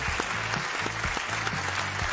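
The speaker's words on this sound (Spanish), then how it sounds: "Pero aplausos." A TV show studio audience breaks into brisk applause, a short burst of dense clapping with a few louder claps standing out over a faint musical backing.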